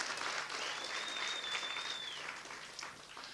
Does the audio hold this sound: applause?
yes